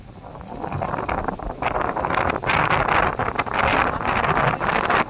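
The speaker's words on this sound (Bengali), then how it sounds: "প্রচুর বৃষ্টি পড়ছে, আমি দাঁড়াতে পারছি না। হ্যাঁ, আর তো হাওয়া দিচ্ছে, যেন হচ্ছে উড়িয়ে নিয়ে চলে যাবে।" Storm outdoors with strong gusting wind buffeting the microphone in loud, rushing waves, and a dense wash that fits heavy rain, with no talk heard.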